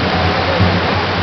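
Fountain in an Italian square, its water splashing in a steady, dense rush of noise heard close, with no other sounds standing out over the brief stretch.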